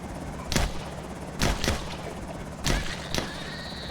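Gunshots ring out in the zombie-survival game Project Zomboid, several sharp cracks spaced about a second apart with one quick double shot, loud over a constant droning background.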